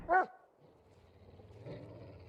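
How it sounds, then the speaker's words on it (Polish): A dog in the hunting game theHunter: Call of the Wild gives a single short, sharp bark close by. A low, faint rumble of game ambience follows, with a soft murmur near the end. "Twój pies tak szczeka, czy co?"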